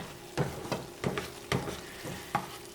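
Onion is stirred in a frying pan with a gentle sizzle underneath, as a utensil scrapes and taps the pan in a slow run of about six distinct strokes, close and fairly quiet with no voices.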